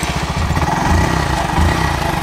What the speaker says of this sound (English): Let's do a cold start on both these bikes